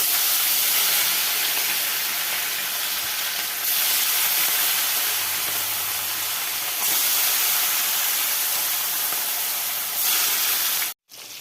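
Fish frying in oil in a pan in a home kitchen, a steady loud hiss and sizzle running almost the whole time, with brief dips in intensity, before cutting out abruptly near the end.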